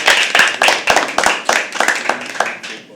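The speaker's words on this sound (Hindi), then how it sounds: "ताली तो बजने दो।" Audience at a live poetry open mic clapping for a poet coming on stage, with sharp, uneven hand claps from a modest crowd, close and fairly loud, thinning a little toward the end.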